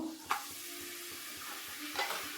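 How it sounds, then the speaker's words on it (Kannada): Roti papad deep frying in hot oil: a soft continuous sizzle with a few light stirring knocks, one sharper clink near the start and another near the end, heard alone without talk. "ಎಣ್ಣೆ ಕಾದ್ಮೇಲೆ ರೊಟ್ಟಿನ ಇದಕ್ಕೆ ಡೀಪ್ ಫ್ರೈ ಮಾಡ್ಕೋಬೇಕು"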